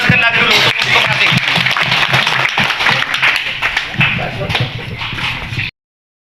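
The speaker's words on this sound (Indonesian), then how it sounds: "Tepuk tangan sekali lagi dulu untuk koperasi" Loud applause from an audience at the inauguration of a cooperative, continuous close clapping that runs for several seconds and then cuts off abruptly.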